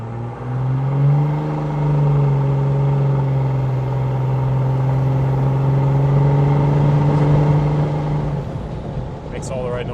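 A 1990 Mercedes GD300 with a swapped-in OM606 diesel engine drives with a steady, close droning hum. The engine note holds a low tone, and voices talk faintly over it.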